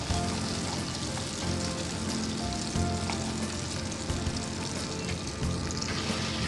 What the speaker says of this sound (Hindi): तो इस तरह शेप में मैंने कढ़ाई में शैलो फ्राई के लिए डाला हुआ है।